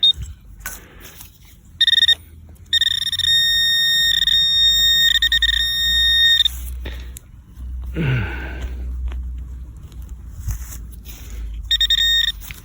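A Minelab Equinox 800 metal detector gives high electronic beeps and warbling target tones in bursts around an old clothesline, with rustling handling noise and a brief breathy sound between them.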